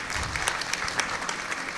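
Audience clapping together in honour of the Devkara villagers at a village kirtan gathering, a dense steady applause with scattered sharp claps, close and loud, carrying through the whole clip.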